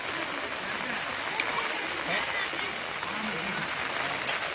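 Rain falls outdoors during fishing, a steady, close hiss of drops on water and surfaces that lasts throughout, with faint voices in the background.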